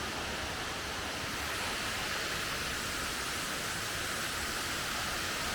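Steady, dense roar of a waterfall beside a backpacking trail in Alabama, a loud continuous wash of falling water with no breaks and no voices.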